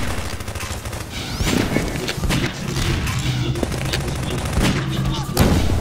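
Gunfire in the video game Half-Life 2 Deathmatch, with rapid bursts of shots and heavy impacts cracking in quick succession, loud and dense throughout, with game sound effects mixed in.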